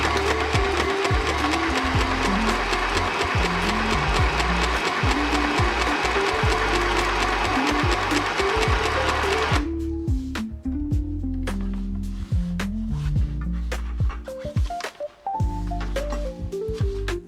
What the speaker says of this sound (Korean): 묵혀놓은 재봉틀을 오랜만에 꺼냈습니다